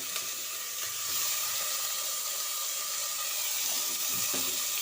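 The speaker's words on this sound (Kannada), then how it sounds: "ನಾನಿವಾಗ ಆಲೂಗಡ್ಡೆ ಹಾಕ್ತಾಯಿದ್ದೀನಿ" Potatoes frying in hot oil with tomato make a steady, moderately faint sizzle, an even hiss with light crackles throughout.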